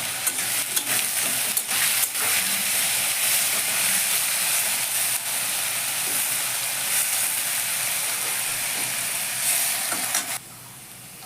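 Potatoes with turmeric and a little salt frying in hot oil give a loud, steady sizzle with occasional stirring scrapes, continuous until it drops off near the end.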